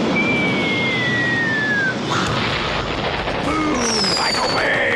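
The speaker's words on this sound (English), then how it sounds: "Explosions from Michael Bay!" Loud, dense explosion blasts and rumbling booms from the film Bumblebee fill the scene, with whistling streaks and debris-like crackle layered over a continuous roar.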